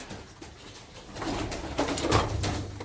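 Pigeons in a loft give low, soft cooing calls, close by and fairly quiet, with a few faint flutters and shuffles among them.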